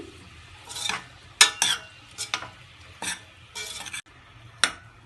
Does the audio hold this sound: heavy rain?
no